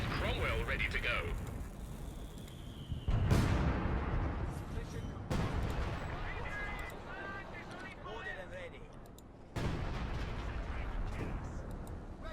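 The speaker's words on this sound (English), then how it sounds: "Who's calling in a barrage?" Artillery barrage in the WWII strategy game Company of Heroes 2, several heavy booming shell impacts with rumbling tails, alternating with mechanical battle noise while a commentator talks throughout.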